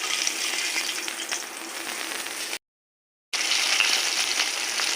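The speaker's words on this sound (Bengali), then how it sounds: "এরকমভাবে আমরা অপর পিঠটাও ভেজে নেব" Marinated fish, flipped to its second side, fries in hot oil for a South Indian-style fish curry, a steady, close sizzle with light crackles, interrupted by a short silent gap midway.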